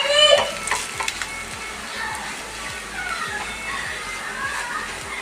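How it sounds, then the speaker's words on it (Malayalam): Chili and coriander powder get stirred in a frying pan as oil sizzles steadily, with repeated scraping strokes of a spoon throughout and faint background noise. "1 സ്പൂൺ മുളക് പൊടി, 1 സ്പൂൺ മല്ലിപ്പൊടി, നന്നായിട്ട് മിക്സ് ആക്കാം."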